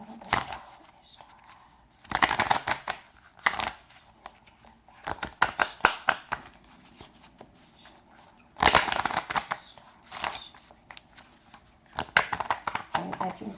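Bursts of riffling and tapping as a deck of tarot cards is shuffled repeatedly, close and quiet, with pauses between the shuffles.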